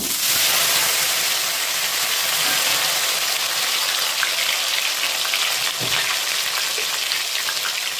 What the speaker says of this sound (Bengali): আর এখানে আমি টমেটো আর দুটো কাঁচা লঙ্কা, এই লঙ্কাগুলো খুব ঝাল বন্ধুরা, এইটা তেলে দিয়ে দেব